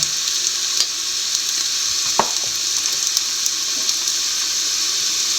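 Chili powder and garam masala being stirred into cassava and beef frying in a pan, a steady close sizzle with a few scattered utensil scrapes and taps, no talking.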